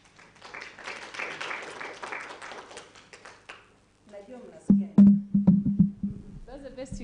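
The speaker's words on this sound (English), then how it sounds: "Another round of applause for Professor." An audience applauds at a maternal and newborn health knowledge and learning event: a dense burst of clapping for about three seconds, followed by quieter talk and a few sharp taps.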